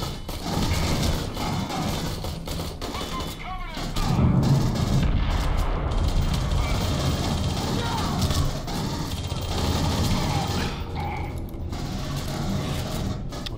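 Gunfire from Aliens: Colonial Marines rattles in dense mechanical bursts, with a heavy blast near the start and continuous combat noise throughout, while a player talks over it.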